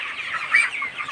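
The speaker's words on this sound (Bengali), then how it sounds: "ব্রয়লার মুরগি পালন" Caged broiler chickens cluck steadily at close range in a poultry shed, with a brief louder squawk in the middle and no talking.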